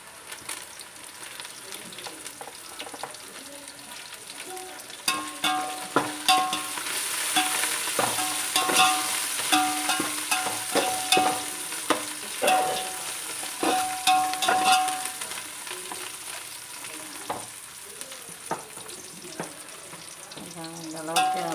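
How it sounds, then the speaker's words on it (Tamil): Browned onions with mint and coriander sauté for biryani, a continuous close sizzle broken by frequent stirring scrapes and spatula knocks, building in the middle and easing toward the end. "இப்போ வந்து நம்ம புதினா கொத்தமல்லியை போட்டு நன்றாக வதக்கி கொள்ளவும்."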